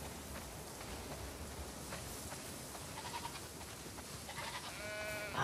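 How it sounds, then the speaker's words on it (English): Many sheep bleat in a barn scene from The Last of Us Part II, a few faint calls over a steady rain-like hiss near the end. "Wow, that's a lot of sheep."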